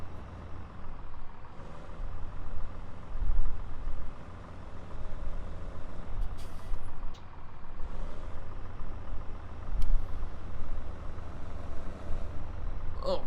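A tractor engine idles and rumbles steadily while reversing into a farm shed in Farming Simulator 17, with short hissing bursts like air brakes, no talk.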